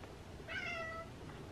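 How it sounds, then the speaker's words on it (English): A pet cat gives one short meow while indoors at home, apparently at a bug, standing out plainly against quiet room background. "sees a bug or something and he's meowing at it"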